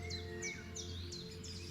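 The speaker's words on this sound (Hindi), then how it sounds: "हजारों परिंदों की आवाजें" Many birds call across the Ebro Delta wetlands, with repeated high chirps and sweeping whistles over a soft, constant background hum, fairly faint and distant.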